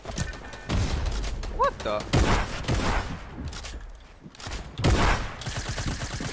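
Fortnite gunfire in a busy battle, rapid bursts of shots and thuds arriving in several loud clusters with game effects between them, while someone speaks briefly over the action.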